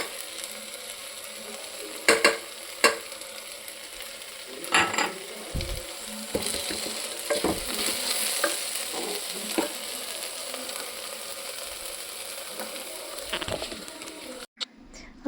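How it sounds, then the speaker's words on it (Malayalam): Ginger-garlic paste and masala sauté in a hot pan with a steady sizzle, broken by occasional sharp scraping and tapping strokes of a spatula, close and continuous. "ഇഞ്ചി വെളുത്തുള്ളി പേസ്റ്റും മസാലയൊക്കെ ഇട്ടിട്ട് നമുക്കത് നന്നായിട്ടൊന്ന് പച്ചമണമൊക്കെ മാറി വരുന്ന വരെ ഒന്ന് നന്നായിട്ട് വഴറ്റി കൊടുക്കുക"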